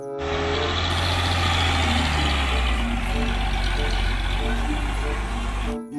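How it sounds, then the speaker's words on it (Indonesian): A toy tow truck plays a steady electronic engine rumble, loud and close, that holds evenly for several seconds and then stops abruptly. "Mobil derek."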